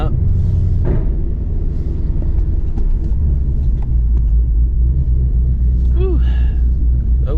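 A Ford Mustang S650 GT rolls up with a deep, steady low-end engine rumble that stays loud throughout, with a voice talking over it and a brief squeak near the end.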